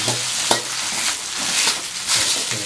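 Noodles stir-fried with dark soy sauce in a wok over high heat for Thai seafood rad na, with a steady sizzle broken by scraping spatula strokes that land in a loose rhythm.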